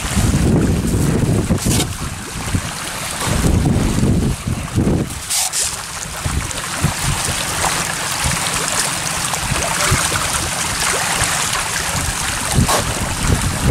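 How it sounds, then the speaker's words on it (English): Strong outdoor wind buffets and rumbles across the microphone beside a milkfish pond where azolla is being scattered. It comes as gusty, loud broadband roaring with occasional splashy water texture and no clear speech. "The wind's blowing"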